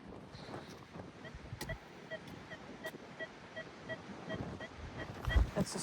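Strong outdoor wind buffets the microphone on a windy metal-detecting outing, a rough rumbling gusting noise with irregular thumps throughout and louder bursts near the end.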